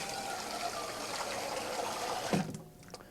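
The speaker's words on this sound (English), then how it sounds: "A few inches of water in the pot will be just sufficient to boil the ramen" Water runs steadily into a medium-sized saucepan as it is filled for boiling ramen, a continuous close splashing hiss that stops abruptly near the end, followed by a couple of faint drips.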